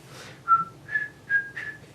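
A single person whistles a short, upbeat tune, four clear, close notes with brief breath between them.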